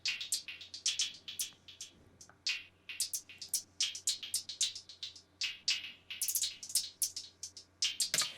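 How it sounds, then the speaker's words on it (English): A trap-beat hi-hat pattern treated with pitch change, panning and delay feedback plays as quick, crisp ticks in a rolling, uneven rhythm, quiet and alone with no voices. "Just gives it a whole new kind of unique sounding hi-hat sound"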